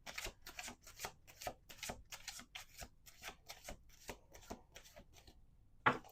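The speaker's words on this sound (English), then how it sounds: "Last shuffle." Tarot cards being shuffled by hand, a rapid run of crisp papery riffles and slaps in an irregular rhythm, close and alone, ending with one sharper snap.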